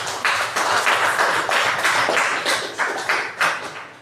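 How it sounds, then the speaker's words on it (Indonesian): Students in a classroom clap in response to a question about internet speed, a close, fairly loud round of rhythmic clapping with distinct pulsing beats throughout. "tepuk tangan buat pertanyaan itu"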